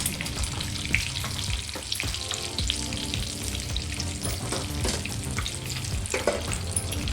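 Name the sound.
frying masala on low flame until brown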